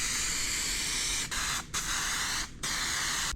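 An aerosol spray can lays a light tack coat of primer during custom door-handle shaving bodywork, sending out a loud, steady hiss broken by two short pauses between passes.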